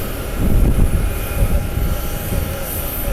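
Southwest Boeing 737 MAX 8 jet at Columbus airport: a loud, steady engine roar with low rumble, heard from a distance and holding constant throughout, no talk.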